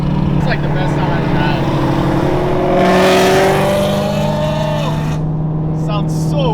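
A Ford Mustang GT with a complete muffler delete roars loudly up close while driving, its deep exhaust drone rising and shifting pitch with a brief surge of wind-like rush midway.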